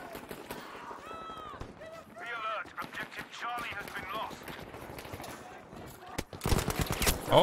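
Gunfire in the World War II shooter Battlefield 5: scattered shots and rattling bursts under in-game voice chatter, building to a loud, dense volley near the end.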